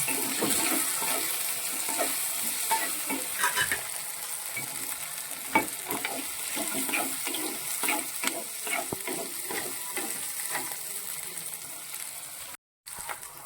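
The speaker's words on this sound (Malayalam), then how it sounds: "ഇഞ്ചിയും വെളുത്തുള്ളി പച്ചമുളകും ഇതെല്ലാം കൂടി ചേർത്ത് നന്നായിട്ട് വഴറ്റിയെടുക്കണം" Ginger, garlic and green chilies sauté in a pan for a clam pickle, producing a steady sizzle broken by repeated scraping stirs of a spoon, close and moderately loud, with a brief drop near the end.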